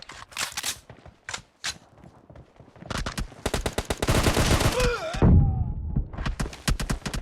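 An SCAR-L rifle in PUBG fires in close, loud rapid bursts of automatic gunfire, then a burst of heavy impacts and a rising whoosh before more quick shots.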